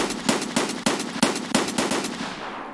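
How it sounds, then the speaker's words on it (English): Rapid bursts of gunfire from the video game Escape From Tarkov, a string of sharp, loud shots fired in quick succession with a short pause between bursts, then fading out at the end. "I'm just shooting recklessly"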